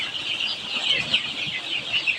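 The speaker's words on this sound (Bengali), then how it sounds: "এটা আমার দেশি মুরগির খামার এখানে বাচ্চা তুলেছিলাম" Chickens on a native (deshi) chicken farm cluck in a steady, busy chorus, with soft overlapping calls throughout and no talking.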